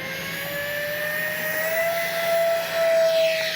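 Electric ducted-fan motors of an E-flite A320neo RC model jet spool up at takeoff, a steady whining turbine-like tone with a rising pitch and a constant rushing hiss, loud and close throughout.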